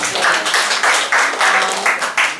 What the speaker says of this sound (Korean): 박수 한번 보내드릴까요?